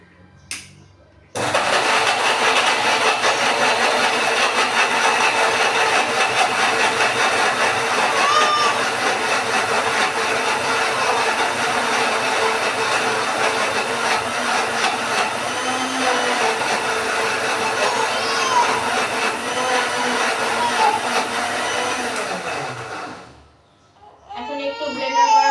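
An electric kitchen blender grinds spices at home, its motor switching on abruptly into a loud, steady whirring roar that runs for about twenty seconds before winding down and stopping.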